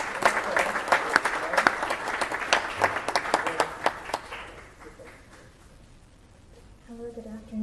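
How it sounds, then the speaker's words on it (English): An audience at a city council meeting applauds with dense, lively clapping for about five seconds before it thins out and fades, leaving a faint voice near the end. "Yes, we can applaud."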